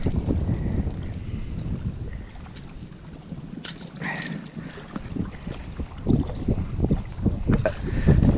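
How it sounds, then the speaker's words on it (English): Wind buffets the microphone on a lakeshore during bass fishing, in gusty rumbling bursts that swell and fade, with light splashing and handling noises close by. "Windy conditions from the shore"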